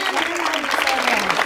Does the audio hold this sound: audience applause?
yes